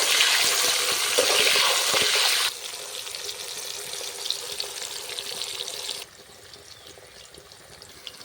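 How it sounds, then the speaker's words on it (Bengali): Carrot pieces deep-fry in oil for a shukto, a close, hissing sizzle that drops abruptly in loudness twice, as though the scene cuts, with light crackling and a faint stir underneath and no speech. "এরপর সবগুলো সবজি আমি একইভাবে ভেজে নেব। এরপর দিয়ে দিচ্ছি গাজর।"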